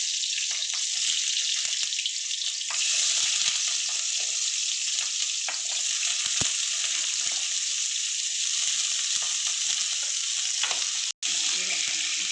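Potatoes and green chilies fry in a pan, a loud, steady, close hiss of oil sizzling continuously, with faint scrapes of stirring and a brief cut near the end.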